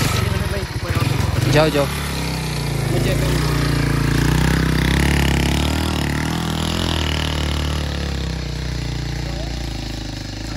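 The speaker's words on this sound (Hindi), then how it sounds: "पहला बाइक ये वाला जाएगा।" A motorcycle rides off along a newly built village road in Pakistan, its engine settling into a steady, close drone after voices briefly shout at the start.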